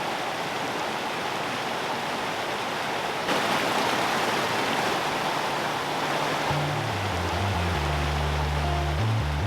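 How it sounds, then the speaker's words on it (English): An epic waterfall in Cocora Valley near Salento, Colombia, pours with a loud, steady rushing roar that fills the whole stretch, joined near the end by low rumbling from wind or handling. "The next chapter in our nature walk is this epic waterfall."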